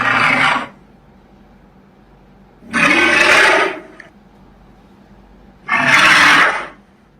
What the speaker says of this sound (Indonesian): pernah gak sih penasaran sama suara dari Megalodon